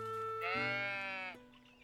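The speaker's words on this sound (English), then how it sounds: "Figured we'd check in on the sheep first though." Sheep in a video game gives one clear, wavering bleat lasting about a second, loud and close, then trails off into quiet.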